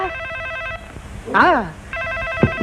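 A telephone rings in repeated trilling bursts, pausing while a voice speaks briefly, then ringing again.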